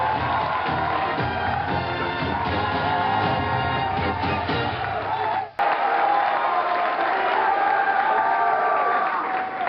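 Studio audience at a high school academic quiz show applauding and cheering, dense sustained clapping with shouts and whoops, cutting off abruptly partway and followed by lighter crowd noise and cheering.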